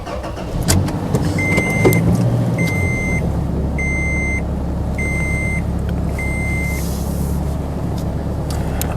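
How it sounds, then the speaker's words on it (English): A small truck drives along, its engine a steady low rumble throughout, with a series of five evenly spaced electronic beeps chiming from the cab over the road noise. "I'm just bringing my little truck"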